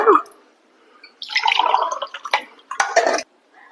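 Water is poured into a pot on a stove for cooking pearl millet semolina for sajja burrelu. Two short, splashy pours follow a few drips, close and clear with quiet gaps between them.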